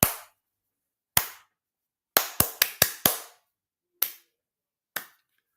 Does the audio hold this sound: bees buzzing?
no